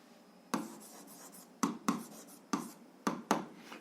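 Pen strokes on paper during a 7th-grade algebra exercise, heard as five short, close scratching bursts in two groups over a quiet room background.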